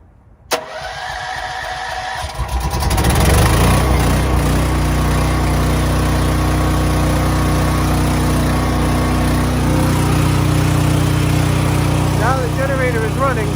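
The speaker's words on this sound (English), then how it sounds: "I'm going to start up the generator." A Duromax home generator running on natural gas cranks briefly, catches and roars up, then settles into a loud, steady engine drone that continues to the end; a voice speaks faintly over it.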